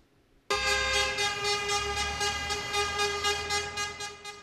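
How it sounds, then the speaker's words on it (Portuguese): A loud, sustained truck horn blast in the streets of Lajeado, Brazil, during a motorized procession, starts abruptly and holds steady for several seconds, a blaring honk with a slight wavering pulse. "Buzinas e caminhões pelas ruas de Lajeado."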